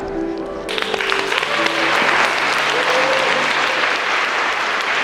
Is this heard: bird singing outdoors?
no